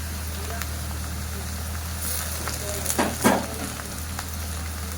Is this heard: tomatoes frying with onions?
yes